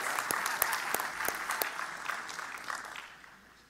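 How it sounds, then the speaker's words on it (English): Warm applause from an awards ceremony audience, a burst of clapping that holds steady and then tapers off toward the end. "Another round of applause"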